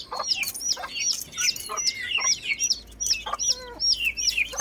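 Young cockerels and chicks in a backyard give repeated close, high peeping chirps and soft clucks in an uneven stream, with no talking.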